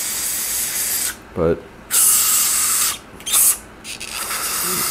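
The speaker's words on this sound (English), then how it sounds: "this lets me really target where I spray" Spray aimed at a bicycle part during a full tune-up of a Gary Fisher Mamba getting a new fork: several sharp hissing bursts of varying length, loud and near, separated by short quiet gaps, with one brief spoken word between them.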